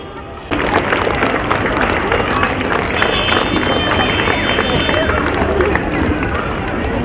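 Audience applause at the lamp-lighting ceremony of a school annual and graduation day event, starting suddenly after half a second and holding as a dense, loud, steady wash of clapping with crowd noise.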